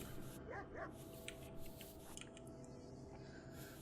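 A dog barks in the video game RimWorld, several short yips and woofs coming fairly faint over a steady background hum.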